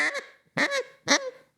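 A duck call blown to imitate a hen mallard's whine: three short, bright, reedy bursts in an even rhythm, close and clear with brief silences between them.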